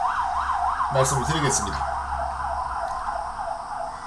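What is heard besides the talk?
ambulance siren passing outside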